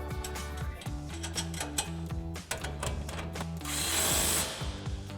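Ratchet turning a 17 mm nut onto a sway bar link on a Toyota Tacoma, rapid close clicking in quick bursts over a mechanical hum, ending in a brief hissing whir.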